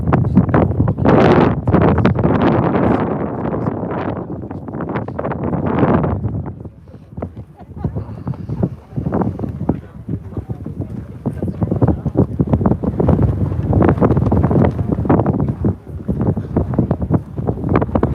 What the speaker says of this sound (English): it was real windy. Can you guys hear the wind?